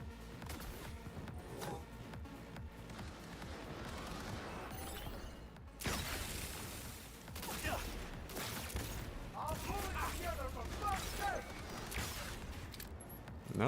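Gunfire and impacts in the video game Cyberpunk 2077 come in dense bursts and booms over a busy mix of game sound. A player talks throughout.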